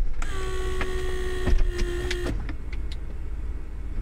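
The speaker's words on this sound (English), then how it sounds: "Pump does its job, whatever it needs to do." A water-damaged Mercedes door lock vacuum pump runs with a steady whirring buzz for about two seconds, then cuts off. Clicks and clunks follow nearby, and a low engine-like rumble continues underneath.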